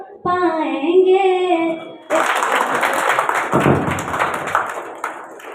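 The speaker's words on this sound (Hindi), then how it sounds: "बहुत ही शानदार सॉन्ग था। इनके लिए जोरदार तालियां एक बार फिर से।" After a sung line ends, an audience at a teacher's day celebration bursts into applause, a lively burst of many hands clapping that carries on steadily to the close, with a few stray voices mixed in.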